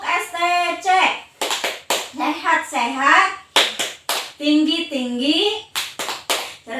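Hand claps in the Indonesian STC clap chant at a primary school lesson: sharp, close, rhythmic claps punctuate a woman and children chanting the words together in loud voices.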